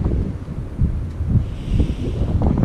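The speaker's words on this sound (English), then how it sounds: "Now with this easterly wind blowing," Strong easterly wind blowing on cliffs by the beach, buffeting the microphone with a loud, continuous low rumble and gusty swells, and a faint wash of surf behind it.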